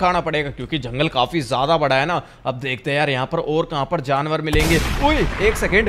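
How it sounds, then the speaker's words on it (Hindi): Gunfire in a jungle in GTA 5 breaks out as a sudden loud burst near the end, over someone talking animatedly throughout. "ये तो गन शॉट की आवाज थी यार"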